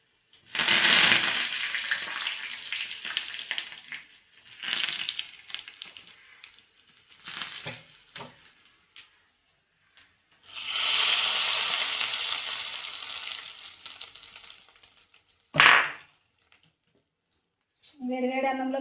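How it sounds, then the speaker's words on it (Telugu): Dried red chillies and curry leaves crackle in hot oil as a tempering for village-style gongura roti pachadi, sizzling in loud bursts separated by quiet gaps, with a short sharp clatter near the end. "కొన్ని బిర్యాలు, కరివేపాకు లాస్ట్లో వేసుకున్నామండి"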